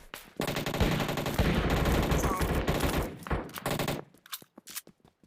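Rapid automatic gunfire rattles in a battle royale video game match on the Livik map, a dense sustained burst for several seconds, then trailing into a few scattered single shots.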